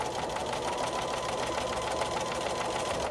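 A sewing machine runs steadily and loudly, stitching a folded edge of ironing board cover fabric in one continuous whir with no talking.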